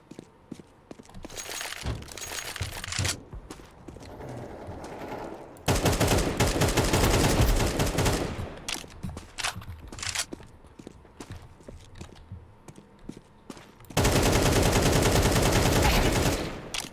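Bursts of rapid gunfire from Counter-Strike 2, loud and dense in a few heavy stretches with quieter scattered shots and game noise between them, faint voices in places.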